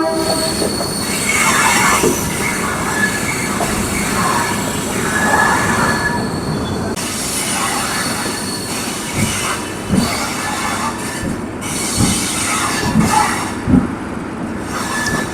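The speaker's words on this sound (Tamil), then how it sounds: "நம்ம ட்ரெயின் திருவண்ணாமலைக்குள்ளே கால் எடுத்து வச்சிருச்சு." Special MEMU passenger train running from Villupuram to Tiruvannamalai, heard from on board: loud continuous rail roar with squealing wheels and rhythmic clickety-clack thumps from the track joints.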